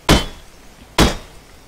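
Two sharp, loud chopping thwacks about a second apart as a tree is cut with a tool in the video game Rust, each impact ringing briefly before fading.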